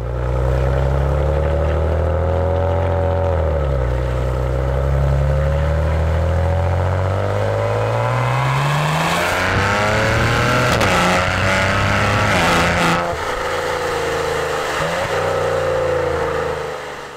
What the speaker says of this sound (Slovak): 3-litrový V6 motor dopovaný dvoma turbami